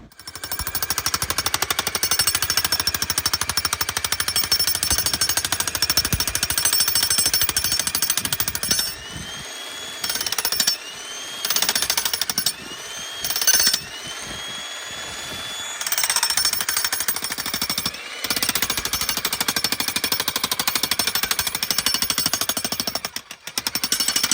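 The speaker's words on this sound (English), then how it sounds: "we did encounter quite a few big rocks and bedrock that we had to rent a jackhammer" A rented jackhammer pounds rock and bedrock on a homestead, a loud sustained rapid hammering that stops briefly several times and then resumes, with a whining tone during the pauses.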